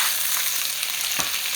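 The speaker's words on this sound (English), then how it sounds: "So as my tofu cooks" Tofu fries in a pan with a dense, steady sizzle and crackle, close and continuous, with a brief stirring scrape near the end.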